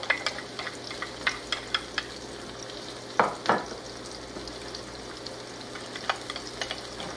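Garlic hits a hot pan and sizzles steadily, with scattered clicks of a utensil stirring and a louder scraping burst midway.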